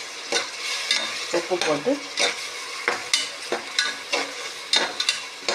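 Food sizzles in a hot pan as green chilli paste fries for ghee rice, while a utensil scrapes and stirs in a steady rhythm; a voice speaks briefly.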